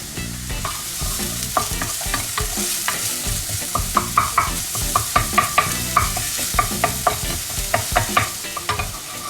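Shallots sauté in a pan while being stirred, giving a soft continuous sizzle broken by repeated scraping and clinking strokes of the utensil in a loose, fairly quick rhythm, with no talking.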